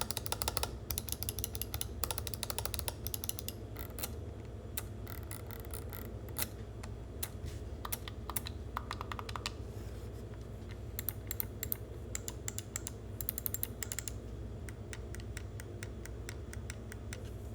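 The optical switches of a Razer Basilisk V3 gaming mouse click in a long run of quick, crisp clicks, some rapid and some spaced, close and quiet, with no talk.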